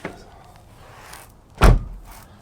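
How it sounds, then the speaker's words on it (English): The door of a 1997 Mitsubishi Eclipse GSX, fitted with a replacement handle, shuts with a single loud close-range thud after a faint click, in an otherwise quiet spot. "Door closes"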